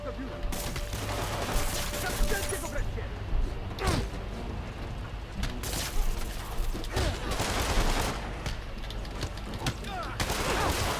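Gunfire bursts from the 2018 Spider-Man video game crackle through a dense, busy soundscape, with repeated sharp shots and rattling volleys mixed under game effects and speech.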